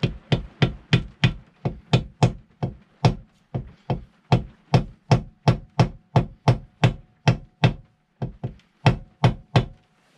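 A hammer strikes metal while driving a bearing into a Triumph Speed Triple swing arm, a long steady series of sharp knocks, about two per second with a few short gaps, close and loud.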